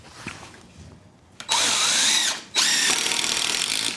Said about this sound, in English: We're just going to screw them together, same as we screwed the frame over here together